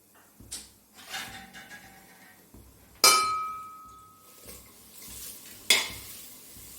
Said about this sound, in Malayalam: സവാള ഇട്ട് കൊടുത്തു അതേമാതിരി വെളുത്തുള്ളി ഇഞ്ചി പച്ചമുളക് ഇതിനി ഞാൻ നല്ലപോലെ ഒന്ന് വഴറ്റിയെടുക്കട്ടെ